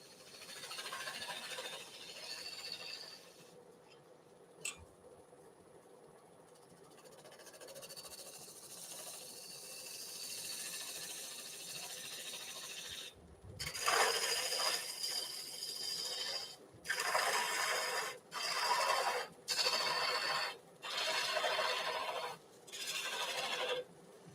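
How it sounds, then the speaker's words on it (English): Sanding a yew wood flower vase on a lathe gives a hissing rasp that comes first as a longer stretch, then in several short, louder bursts separated by brief pauses, with no talk. "before I do that, I'm gonna sand in that last little bit"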